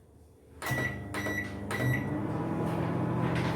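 A microwave oven hums steadily while cooking an eggless blueberry oats mug cake, starting with a click and a few sharp beep-like tones over the running drone.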